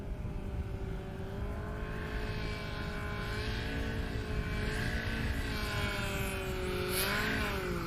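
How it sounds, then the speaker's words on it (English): A Yamaha engine on a STOL aircraft at a swamp short takeoff and landing competition in Jennings, Louisiana, drones steadily with the throttle rising and falling, a continuous buzzing roar with a pitch swell near the end. "Hear that Yamaha putting in work as he modulates the throttle"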